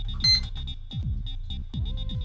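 An E-Flite Edge 540QQ RC plane receiver beeps repeatedly while binding to its controller, a steady series of short, thin electronic beeps in an even rhythm alongside clicky low thumps, close and fairly quiet.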